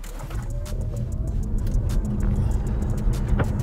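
A BYD Seal electric sedan in Sport mode accelerating at full throttle, a rising whine and road rumble heard from inside the cabin, with scattered light clicks and rattles.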